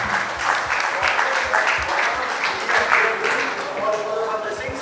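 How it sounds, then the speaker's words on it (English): An audience at a trade conclave claps in sustained, dense applause for several seconds, with a voice faintly audible beneath it. "Let's give her a big round of applause."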